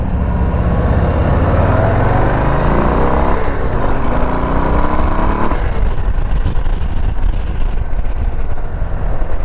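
A 2022 Harley-Davidson Low Rider motorcycle rides on the road, its engine rising in pitch as it accelerates through gears, under steady heavy wind rush that stays loud throughout.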